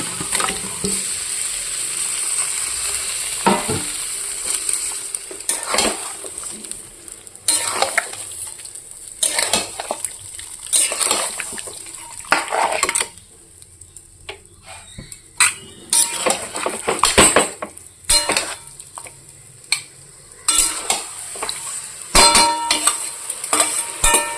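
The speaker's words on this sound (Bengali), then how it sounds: "এবার মাংসটা ঢেলে দেবো" Chicken meat is tipped into a hot pan and fries with a steady sizzle, broken by repeated scraping and clinking of a stirring utensil against the pan, close and loud.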